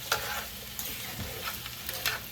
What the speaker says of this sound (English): I'm going to give them a little stir around